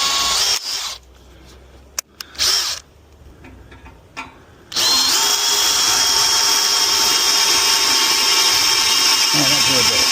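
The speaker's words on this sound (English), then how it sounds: "Drill our guide hole." A power drill bores a guide hole, starting after a few quiet seconds of small handling knocks and clicks, then running as a loud, steady, high whine through to the end.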